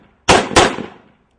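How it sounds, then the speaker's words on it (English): A .45 ACP round fired from a United States military service pistol strikes a bulletproof vest: two sharp, loud cracks in quick succession, each trailing off briefly, with silence after. "Now, a bigger but less powerful bullet, the 45 ACP, fired from a United States military service pistol."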